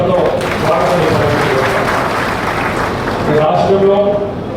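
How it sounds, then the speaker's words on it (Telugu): Crowd at a political gathering applauding new party members joining, a dense steady wash of clapping lasting several seconds with voices mixed in. "వారి కోసం గట్టిగా చప్పట్లతో స్వాగతం చెప్పారు."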